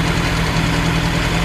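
A Ford Anglia E494A engine idles after a Zenith carburettor repair, a close, steady, even rumble with a slight knocking texture and no other sounds.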